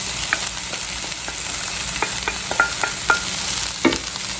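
Leftover steak meat sizzling with vegetables in a pan for pepper steak, a loud, constant sizzle with a few sharp scrapes and clicks of stirring, no voices.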